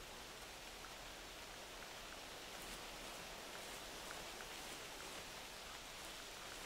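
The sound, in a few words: rain in The Hunter Classic video game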